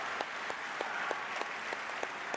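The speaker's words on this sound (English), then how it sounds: "Clap it up for these ladies, chat." Steady applause from an audience at a live event honoring women recognized with a gold medal, a dense wash of clapping with a few sharper individual claps standing out at regular intervals.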